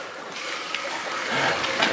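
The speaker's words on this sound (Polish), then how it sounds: "Zimna woda nalewamy." Cold water pours into jars for home canning, a gurgling, splashing stream that rises slightly in level toward the end, close and fairly quiet, with no talking.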